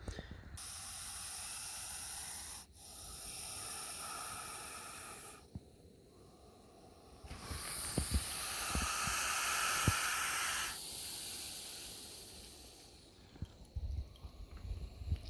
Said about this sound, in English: They like to hiss and puff themselves up, but it's actually all bluff.